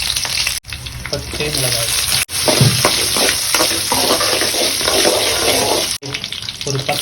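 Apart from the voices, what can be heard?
mustard seeds, cumin, ginger and green chilli frying in oil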